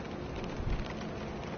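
Rain falls in the racing game F1 2016, a dense even hiss of steady downpour with a brief low rumble midway, heard alone.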